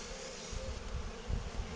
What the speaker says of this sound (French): c'est un essaim sauvage, enfin entre guillemets sauvage, que c'est un essaim qui s'est mis dedans